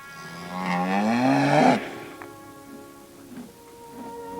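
A cow on an island smallholding moos loudly during hand milking, one long, drawn-out bellow that rises and then cuts off, followed by quieter farmyard background.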